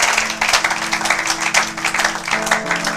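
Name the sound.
applause from church congregation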